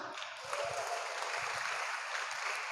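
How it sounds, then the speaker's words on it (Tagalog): Church congregation clapping during a sermon; steady, dense applause, fairly faint and distant in a reverberant hall, continuing without pause. "Palakpak."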